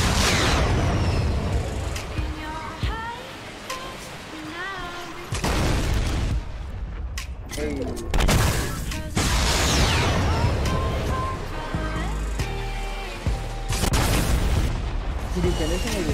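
Impulse grenade blasts and rocket explosions in Fortnite, heavy booms and bursts recurring across a busy battle, with voices talking over the game sounds.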